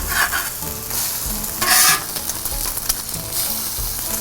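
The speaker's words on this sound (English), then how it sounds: "Perfect eggs on the Blackstone every time." Eggs frying on a Blackstone griddle, a loud, close, continuous sizzle with a brief burst of sharper crackle and occasional spatula scrapes, with no voices.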